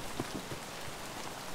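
Steady rainfall in Escape from Tarkov on the Military area, a dense continuous hiss of drops striking surfaces, fairly close and even, with a few soft low thuds early on and no voices.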